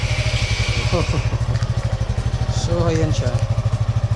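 A Suzuki Gixxer motorcycle engine idles while warming up, close by, with a steady rapid chugging pulse throughout and a person talking briefly over it.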